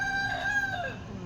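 A single rooster crows nearby, a drawn-out rising and falling call that carries clearly over faint background noise.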